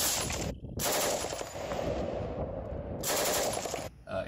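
Suppressed full-auto machine gun fire through a SilencerCo Hybrid suppressor: two long, dense bursts of rapid shots, loud and close, separated by brief pauses with no talking.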